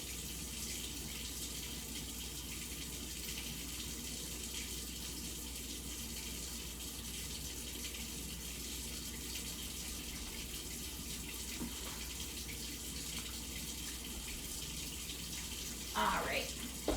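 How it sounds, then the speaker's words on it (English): A kitchen tap runs steadily, a constant hiss of flowing water that stays even and fairly faint, with a brief clatter near the end. "just let your tap run for a minute to get some hot water"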